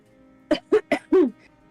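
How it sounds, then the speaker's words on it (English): A person gives a quick run of four harsh, throaty coughs close by, the last one drawn out and raspy, with quiet around them. "How dare you cough?"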